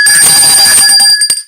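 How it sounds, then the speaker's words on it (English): A quiz-answer bell rings loudly on a weather show, a sustained bright metallic ringing that holds steady, then breaks into a few final quick strikes and fades out. "Here's the bell. Ding ding."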